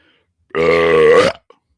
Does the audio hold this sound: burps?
yes